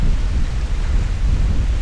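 Wind blowing outdoors with rain nearby, a steady loud low rumble of gusts buffeting the microphone, close and continuous with no talk.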